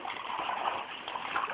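Bartelby the dog splashes through puddles, giving a continuous, close, hissing splatter of water with no clear pauses or voices.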